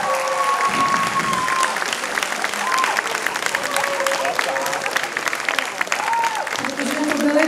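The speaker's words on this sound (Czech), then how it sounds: "Mohli byste zatleskat?" An audience at a Czech school graduation ball in Skuteč claps steadily throughout, a dense wash of hands with faint tonal sounds drifting above it.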